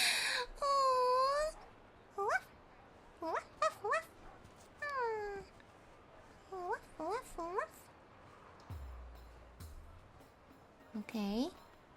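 A dog whimpers and whines in the video game Genshin Impact, with a series of short, high, rising whines and yips spread over quiet background music, fairly faint.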